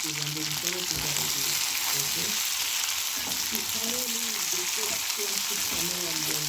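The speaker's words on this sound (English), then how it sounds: "So we fry" Omena, small Kenyan fish, fry with ginger in oil in a pan, a loud steady sizzle throughout, while a voice speaks over it.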